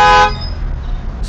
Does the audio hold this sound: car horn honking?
yes